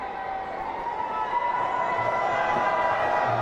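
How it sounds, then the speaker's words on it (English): A cricket crowd at the 2011 World Cup match between New Zealand and Zimbabwe, where New Zealand supporters cheer as a broad, steady roar heard from a distance, with a tonal hum running beneath it. "Few New Zealand supporters in the crowd. And they're very happy with that performance"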